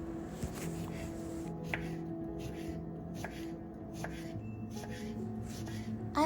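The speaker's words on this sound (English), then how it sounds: "I washed off the rice bran and now I'm cutting the pickled cucumber" Knife slicing pickled cucumber, washed of rice bran, on a cutting board, with a few sparse, crisp chops at irregular intervals over a quiet background hum.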